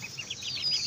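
Several chickens cluck and murmur in quick, overlapping bursts, fairly close, with no talking.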